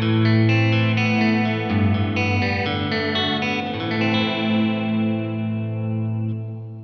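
A guitar played through a UAFX Heavenly Plate reverb pedal with modulation raised to 75% produces wavering, chorus-laden chords with a warbling reverb tail. The chords ring alone and fade out at the end.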